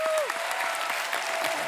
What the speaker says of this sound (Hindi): पूरी कास्ट के लिए एक बार जोरदार ताली